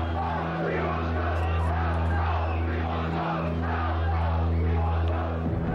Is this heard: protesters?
yes